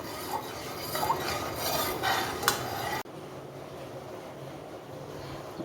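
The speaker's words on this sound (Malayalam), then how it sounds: "ഇനി അത് അലി അലിയുന്നോടെ വരെ ഒന്ന് ഇളക്കി കൊടുക്കാം" Salt water is stirred in a pan so the salt dissolves, with gentle scraping and swirling of a spoon against metal for a few seconds, then a quieter steady hiss.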